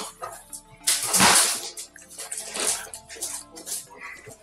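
A glass of water being poured makes short splashing, trickling bursts, near and clear, with faint drips between pours.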